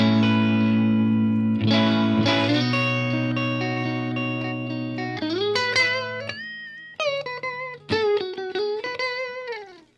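Electric guitar played through a Line 6 Helix LT amp model with the presence and treble adjusted: sustained chords ring out, followed by bright bent lead notes, fairly dry and alone.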